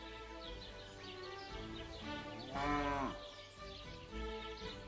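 Sheep bleat in the video game Kingdom Come Deliverance 2, one loud wavering bleat mid-clip among fainter animal calls over a soft rural game ambience.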